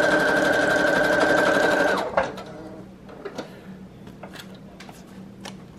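A home sewing machine running a zigzag stitch, loud and steady for about two seconds before stopping, followed by a few quiet clicks and small handling taps.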